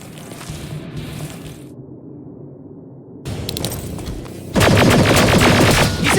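Bursts of automatic gunfire from the video game Terminator Resistance, with a quieter stretch before loud, dense rapid shots that grow more intense toward the end.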